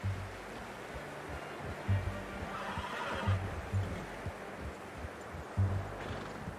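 A horse whinnies and snorts in Red Dead Redemption 2, with short neighs and blowing sounds repeating every second or so over a soft rustling, outdoor background, heard at low volume.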